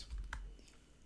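Computer keyboard typing while cleaning data in Python, a short burst of a few soft keystrokes close by, quiet and alone.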